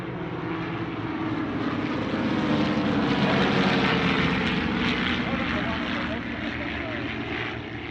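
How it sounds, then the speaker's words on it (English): Three Pacific Aircraft Corporation CT-4 propeller trainers fly in formation at an airshow, their engines a continuous droning roar that swells and fades slightly as they pass, with a voice talking over it. "You'll see 3 Pacific Aircraft Corporation CT-4s."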